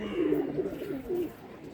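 Pigeons cooing in a loft, soft low repeated coos in a few short phrases, fairly near, over a faint background hum.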